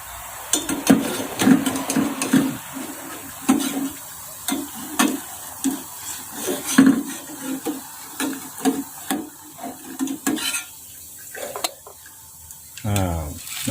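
Freshly fried crispy French fries are shaken and tossed in a metal strainer to drain the oil, making rhythmic rattling and scraping bursts over a faint background sizzle, with someone talking briefly.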